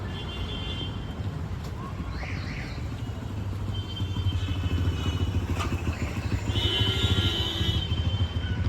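A motorcycle engine idles and rumbles steadily near a Hanuman temple as the bike is parked, growing slightly louder toward the end, with faint clatter in the background.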